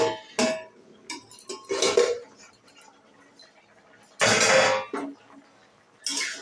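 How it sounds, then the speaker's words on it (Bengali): A metal lid lifted off a pot of potatoes boiling on the stove for a cauliflower-potato curry, giving a few clattering clinks and scrapes in separate bursts, near and moderately loud with quiet gaps between. "আমি আলুটা সিদ্ধ হওয়ার জন্য ঢাকনাটা দিয়েছিলাম, ঢাকনাটা এবার খুলে দেখছি।"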